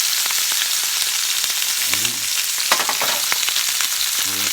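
Sous vide pork tenderloin sears in a hot pan with a steady, dense sizzle throughout, broken by a few soft pan knocks and short tonal sounds near the end.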